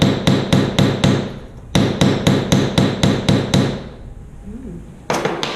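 A metal hammer strikes jewellery sheet metal in rapid, even bursts of sharp ringing blows, close and loud, pausing briefly between runs as the metal is textured and stretched.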